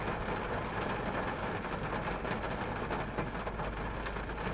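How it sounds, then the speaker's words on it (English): Heavy rain drums steadily on a car stuck in traffic during a thunderstorm, a dense unbroken patter with low rumbling underneath and no voices. "Even though I'm stuck in traffic and it's thundering and it's raining."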